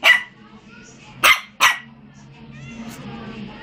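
A dog at home gives a few sharp barks, one near the start and a quick pair in the middle, close by, with soft household noise and faint voices after.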